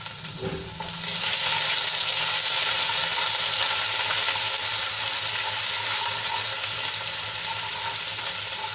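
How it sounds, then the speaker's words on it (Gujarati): Ginger, garlic and chili paste sizzles loudly and steadily in hot oil in a pan after a brief clink at the start, a dense frying hiss that continues without pause. "અને તેલમાં સારી રીતે સાંતળી લઈશું"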